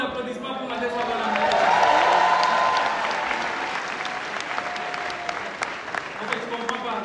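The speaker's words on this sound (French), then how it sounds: "Maximum d'applaudissements pour Madame Swabana." Audience applause at a comedy show at the Casino de Paris, a dense clapping swell that peaks and then thins out, with voices mixed in.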